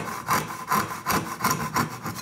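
A sharp, restored dovetail saw cutting wood by hand, with about six rhythmic rasping strokes in quick, even succession, close and clear with no talking.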